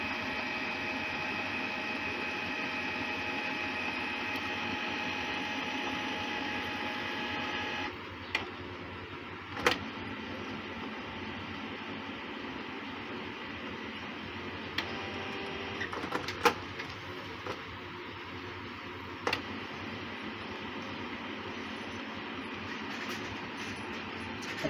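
A Canon Pixma G3012 ink tank printer runs a black copy, a steady mechanical hum and whir with occasional sharp clicks and clunks as the paper feeds, close and continuous without speech.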